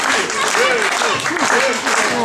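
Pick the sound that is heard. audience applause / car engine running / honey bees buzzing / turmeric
audience applause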